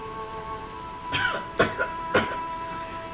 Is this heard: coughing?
yes